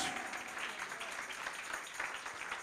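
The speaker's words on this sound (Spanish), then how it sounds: "Dale un fuerte aplauso al Rey" Congregation in a church service clapping for the King, a steady dense wash of applause throughout, fairly faint and distant, with a voice faintly underneath.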